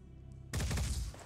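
Gunfire in Phoenix Point: after a quiet moment, a sudden dense, loud volley of shots crackles for about half a second before trailing off.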